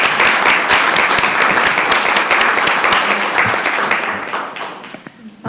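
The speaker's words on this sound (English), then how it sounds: "Let's give them another round of applause." Loud audience applause at a Columbus, Georgia city council meeting, with sharp individual claps standing out in a sustained burst that tapers off near the end.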